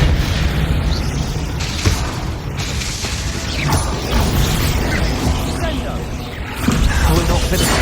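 A Confringo blasting spell explodes in Hogwarts Legacy, loud booming blasts with crashing, rattling debris, dense and continuous under a busy mix of game action.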